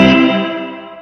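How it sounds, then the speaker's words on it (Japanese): An electric guitar chord rings through a Limetone Audio Moonlight spring reverb set to a long decay, a strong attack that fades smoothly with a lingering, slightly distorted shimmering tail, alone with no talk. "左下のディケイはリバーブが鳴ってる音の長さですね"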